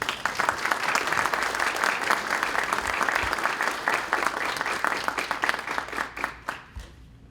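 A room full of people at a tax law symposium claps energetically and steadily, then the applause thins out and dies away at the end.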